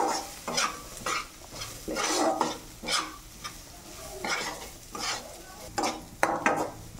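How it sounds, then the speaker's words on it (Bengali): Mung dal stirred and fried in a pan, with a spatula scraping the pan in steady, repeated strokes over a soft sizzle, close and alone without talk. "মুগ ডাল বানাচ্ছি, যতক্ষণ না ডালটা লাল লাল করে ভাজা হবে ততক্ষণ আমি নাড়তে থাকবো।"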